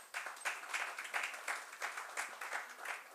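An audience applauds at the end of a talk on arts education, faint steady clapping that pulses in soft waves throughout.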